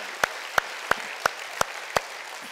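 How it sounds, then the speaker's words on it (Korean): Six sharp, evenly spaced claps ring out at a church Sunday service for the praise team, distinct single hits over a quiet background rather than a full crowd. "우리 수호 찬양한 분들에게 한번 감사 박수 저희가 드리도록 하겠습니다"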